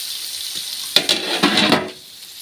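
Onions sautéing in a pan for chicken fry, a steady close sizzle with a few sharp scraping stirs of a spoon in the middle before the frying settles back to a quieter hiss.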